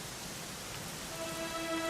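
Rain in the video game Dragon Quest XI falls as a steady, even hiss of drops on surfaces, with a faint tone rising near the end and no talk.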